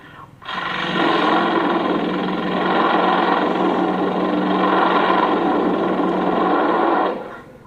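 Someone mimics a helicopter with the mouth, a steady loud droning whir held for about seven seconds at near-constant level, close up and alone.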